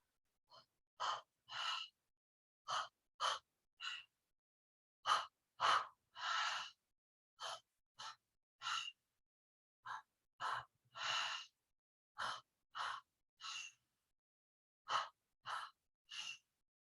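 Deep breathing exercise: close, forceful breaths in and out, repeated in uneven clusters with brief pauses across the whole stretch, heard alone without any talk.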